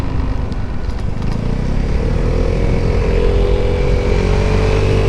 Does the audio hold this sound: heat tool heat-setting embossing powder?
no